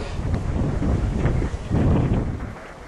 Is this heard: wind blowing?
yes